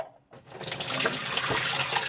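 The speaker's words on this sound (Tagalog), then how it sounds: "Gagawin natin is tapon natin ng tubig." Water from a dehumidifier's collection tank poured out into a sink, a steady splashing stream that starts after a brief quiet moment and runs continuously, close and fairly loud.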